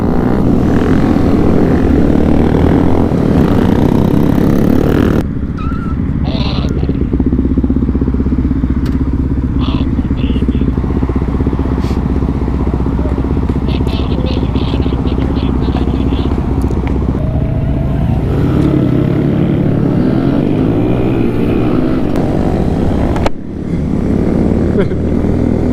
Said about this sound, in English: I feel like the Supermoto's about to do a wheelie